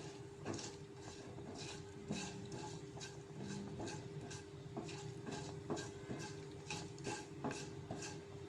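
Mustard seeds frying and stirred in a pan, with faint repeated clicks and scrapes of a utensil over a steady low hum, quiet and without speech.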